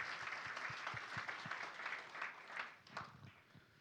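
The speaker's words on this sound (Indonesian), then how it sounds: "Ayo tepuk tangan dulu yang kenceng buat Tuhan kita yang baik." A church congregation claps together during a sermon, a short burst of rhythmic hand claps from a room full of people, heard at moderate distance.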